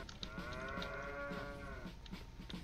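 Cows in the game Attack On Toys give a long, loud, drawn-out moo near by, with faint periodic clicks and taps sounding beneath it.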